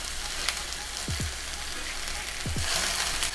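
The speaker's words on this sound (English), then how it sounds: "So onions in, break them up, they should be slices." Sliced onions fry in a hot pan for a vegan French onion chicken casserole, giving a steady, even sizzle with a few faint spatula scrapes, close and continuous.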